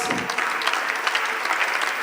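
An audience at a Red FM Battle of Brains quiz contest breaks into loud, dense applause, a steady wash of clapping hands filling the whole moment.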